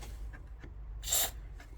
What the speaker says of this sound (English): Then you put the contact spray.